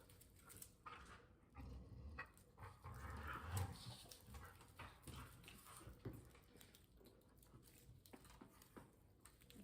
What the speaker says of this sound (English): Apologies for my dogs playing in the background here.